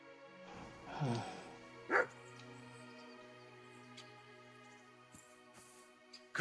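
A dog in the medieval game Kingdom Come: Deliverance 2 gives a couple of short, fairly near yips and barks about a second apart, over a quiet ambient background with a faint later thump.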